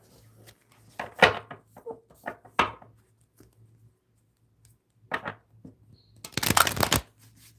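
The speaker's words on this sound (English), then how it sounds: "let me shuffle some of these cards here" Tarot cards are shuffled in three separate bursts, each a short riffle or rustle, and the last burst is the longest and loudest. The sound is close and comes through a faint hum, with no one talking.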